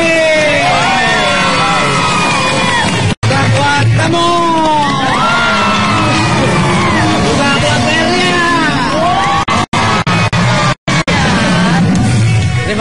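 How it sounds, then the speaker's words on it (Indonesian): A television comedy show's studio audience cheers and whoops loudly, with crowd shouting and clapping in a dense, continuous roar that lasts throughout, close and full, with brief cuts. "tepuk tangan buat Ponina."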